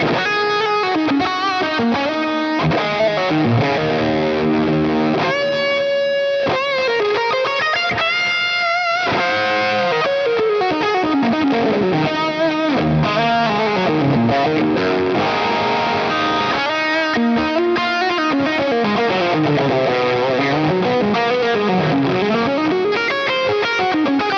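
An electric guitar plays a lead line through a Line 6 POD Go with a distorted, effected tone, sustained bends and fast runs filling a long continuous passage at strong, steady volume.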